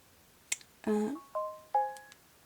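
A new phone's message notification chimes go off close by: a short click, then three or four quick melodic tones in a rising pattern, clear against a quiet room.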